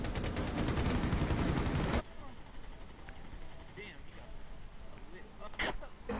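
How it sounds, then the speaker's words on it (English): Dense continuous gunfire from the video game Siege roars for about two seconds, then drops away to quieter scattered game sounds with occasional faint shots and a brief burst near the end. "Gunfire fight."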